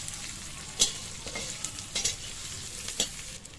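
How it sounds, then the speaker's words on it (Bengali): Onions frying in a pan for a banana-flower recipe, with a close, steady sizzle and a few sharper scraping stirs of the spatula. "পেঁয়াজটা ভাজা হতে হতে মা একটু লবণ দিয়ে দিল।"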